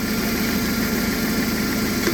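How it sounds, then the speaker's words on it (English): A Hyundai 2.5L engine with a faulty ECM ground and no-acceleration fault runs steadily up close, a continuous mid-pitched hum and vibration without a clear surge in revs. "Sometimes the throttle body will randomly kick in, just like that."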